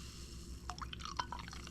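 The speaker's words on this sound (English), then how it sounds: "Can you hear it bubbling?" Champagne fizzes quietly in a glass just after pouring, a soft bed of hiss broken by a cluster of tiny crisp pops and ticks in quick irregular succession.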